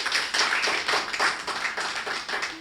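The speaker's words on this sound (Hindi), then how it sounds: "मेरे स्वागत में दोबारा जोरदार तालियां बजाएं" Audience clapping at a Hindi kavi sammelan poetry recital, dense, steady applause from a crowd, sustained and fairly loud throughout with no speech over it.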